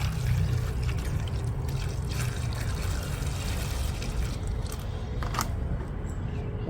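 Water poured steadily into a garden seed-starting tray, a continuous close trickle and splash that runs unbroken throughout with no voices.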